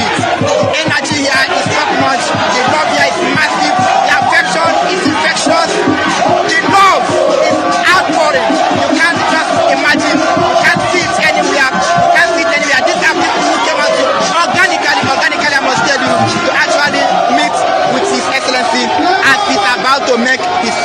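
A massive crowd at a Jubilee Park political rally in Osun State roars and chants continuously, loud and dense with shouts and babble throughout.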